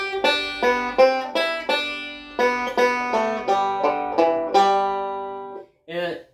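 A banjo picks the A part of Cripple Creek one note at a time, each plucked note sharp and quickly decaying in a steady, bouncy rhythm, closing with a brief voice.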